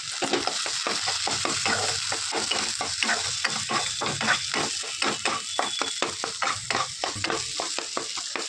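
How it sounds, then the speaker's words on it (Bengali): Shrimp filling stir-fried in a wok with a ladle: a steady loud sizzle runs throughout, broken by fast, regular scraping strokes against the pan, with no voices. "এবার পুরটাকে আমি টালবো কড়াই বেশ অনেকক্ষণ ধরে।"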